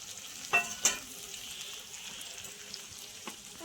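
Potatoes and onions frying with ginger garlic paste give a soft, even sizzle close by, broken by two sharp clinks of a utensil early on and one fainter tap near the end, with no talk.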